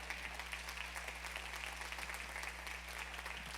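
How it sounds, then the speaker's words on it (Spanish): A church congregation applauds during a sermon, a soft, even spread of clapping heard faintly over a steady low electrical hum. "Dale un fuerte aplauso a nuestro Dios por eso."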